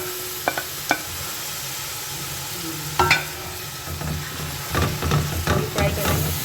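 Onions hit desi butter in a karahi and sizzle close up, with soft frying hiss under scattered clinks and scraping stirs of a spoon against the pan.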